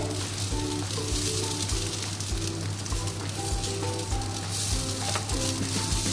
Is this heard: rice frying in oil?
yes